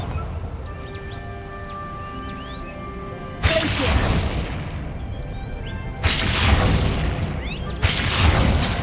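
Three booming Bombarda blasting-spell explosions in Hogwarts Legacy go off one after another at uneven intervals, each a loud, close, rumbling burst that lingers and fades, following a quieter stretch of ambient sound.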